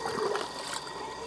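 Cold water is poured and splashed onto a solar panel, giving a continuous close hissing splash for a moment.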